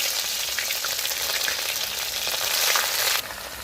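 Garlic sizzles loudly in a hot pan over a clay cookstove, a dense steady hiss that drops noticeably near the end.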